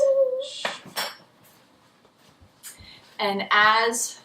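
Spoon stirring chia seeds into a strawberry mixture in a bowl, with a few clinks and scrapes of utensil on dish alongside a person speaking.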